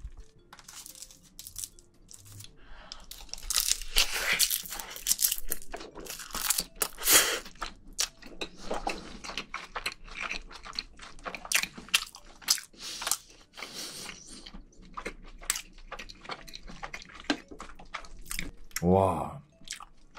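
Close-up eating of soy sauce marinated crab bibimbap: wet crunching, biting and chewing in irregular bursts, with slurpy drips and a few soft vocal sounds.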